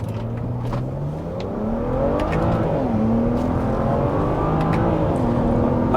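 A twin-turbo BMW N54 car accelerates hard with a loud, rising engine drone that drops briefly at a shift and then climbs again, heard from inside with no talking.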